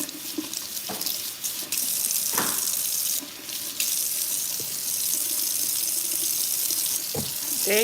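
Tap water runs steadily into a kitchen sink while green beans are rinsed under it, a continuous close splashing hiss with a few brief clunks and shifts as the beans are handled, no talking.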